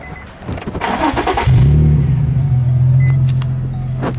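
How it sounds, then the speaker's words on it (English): A car engine cranks with a few rough turns, then catches and settles into a loud, steady rumbling idle close by. "turning on my car. And you guys get to listen to my engine roar"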